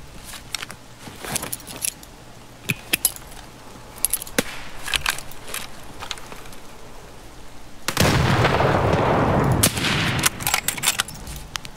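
Gunfire and a grenade explosion in a shooter video game: sharp scattered shots crack close by, then a loud sustained blast-like burst of noise with more shots after, no talking.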